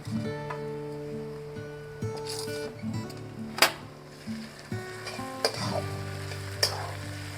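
Ginger-cumin paste frying in a pan, with a steady sizzle broken by repeated stirring scrapes and clinks of the spoon against the pan, close and clear, with no talking.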